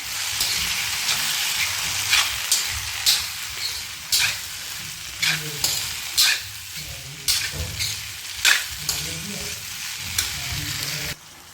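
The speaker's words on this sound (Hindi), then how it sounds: "तो अब हम सब्जियों को, सारी सब्जियों को बीच में डाल देते हैं और अच्छे से हम इसको हिला देते हैं।" Vegetables for sambar frying in a hot pan, a loud steady sizzle broken by repeated scraping and clattering stirs in an irregular rhythm.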